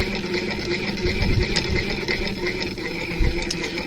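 A Jones Family CS Model E sewing machine winds a bobbin with a steady mechanical whir and soft ticking rattle, running continuously and fairly close.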